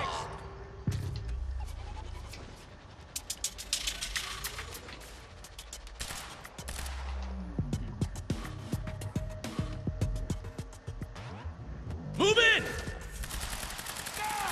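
Bursts of gunfire aimed at a box in the shooter game Quantum Break, scattered irregular shots and rapid volleys at moderate distance, mixed with other game effects and intermittent voices.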